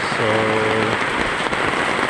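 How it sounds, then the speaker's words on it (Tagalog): Heavy rain pours down in Sorsogon City during a storm, a loud, steady, hissing downpour close by, with a brief spoken word near the start. "napakalakas ng ulan"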